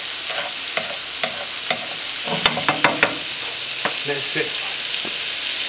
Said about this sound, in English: So my piece of steak is been cooking on one side for about 3 minutes